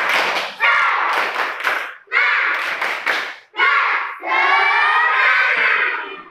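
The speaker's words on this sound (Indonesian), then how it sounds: "Kita melakukan tepuk semangat dulu" A class of students standing in a classroom performs a rhythmic spirit clap, bursts of patterned clapping punctuated by loud group chanting and shouting in short phrases, close and energetic.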